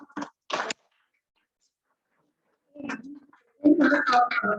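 A pet bird coos in short, soft bursts indoors, a few separate calls with pauses between them, fairly close and with no talk over them.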